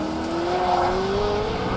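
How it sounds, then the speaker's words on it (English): A Ferrari F40's twin-turbocharged V8 roars steadily while driving, its pitch climbing slowly as the car accelerates, loud and close with a continuous rasping tone and no talking. "It still takes your breath away today, the engine of the F40."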